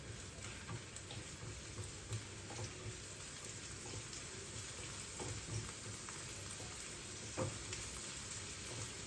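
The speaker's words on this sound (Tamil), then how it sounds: "வெங்காயம் கொஞ்சம் கலர் சேஞ்ச் ஆகட்டும்." Onions for red sauce pasta fry in a pan with a faint, continuous sizzle and occasional soft pops, steady and fairly quiet throughout.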